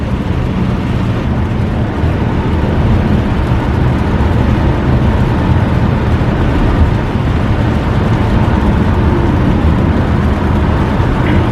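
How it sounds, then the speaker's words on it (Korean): A Chevrolet Trailblazer RS travels along a highway in heavy rain, producing a dense, continuous roar of tyre spray, rain and road noise that stays loud and even from start to finish. "비 굉장히 많이 오는데도 빗길에서도 안정적인 주행을 보여주는 트레일블레이저 RS"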